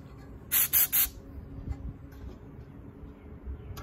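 A spray can or spray gun lays basecoat onto Hero Splendor motorcycle parts during a restoration, giving three quick, close hissing bursts in a row, followed by faint knocks and handling noise.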